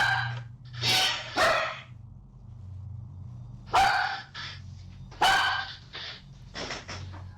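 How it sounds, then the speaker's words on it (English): A dog barks in several sharp bursts, loud and close, spaced with short pauses, over a low steady hum. "The dog's barking."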